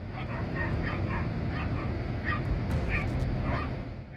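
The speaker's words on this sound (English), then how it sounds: "two dogs stand apart on opposite sides, barking and cautiously watching the massive body of the Komodo dragon" Two dogs bark and yip at a Komodo dragon from opposite sides, sharp repeated barks and whimpering yelps overlapping in quick bursts over a loud, rough background rumble.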